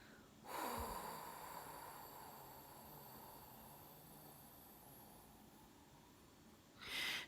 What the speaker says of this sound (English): And we're going to exhale.